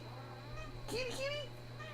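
A cat meows once, a short rising-falling call near the microphone over a steady low hum, with a person speaking around it.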